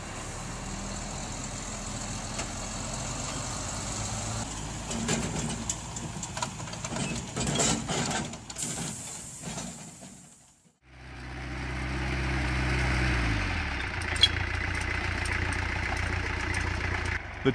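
A heavy semi-trailer truck engine rumbles and labors with clattering bumps on a dirt road, briefly dropping out, then returns to a steady low idling drone.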